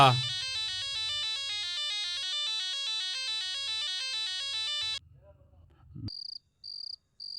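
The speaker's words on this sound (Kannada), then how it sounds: "ಫೋನ್ ರಿಂಗ್ ಆಗ್ತಾ ಇದ್ ನೋಡ" A phone ringtone plays a sustained, chirping electronic tone for about five seconds, followed by a brief pause and then short repeated high beeps.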